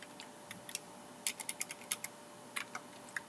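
Keys clatter on a computer keyboard in quick, close bursts, with a short run of taps and a few isolated presses like an enter stroke, over a quiet room background.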